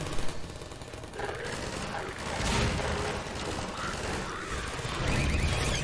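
In the video game Half-Life 2, a gravity gun fires at enemies amid a chaotic, dense, noisy fight. Thumps, clatter and mechanical bursts overlap with voices.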